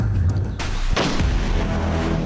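A single sharp gunshot sound effect cracks out close and loud, followed by a short booming tail.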